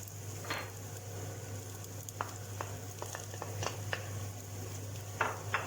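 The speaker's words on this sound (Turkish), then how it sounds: "Biberleri de bir süre kavuracağız." Peppers sauté in a pan for a pea, potato and carrot stew, giving a soft, steady sizzle with scattered clicks and scrapes from stirring, set against a low constant hum.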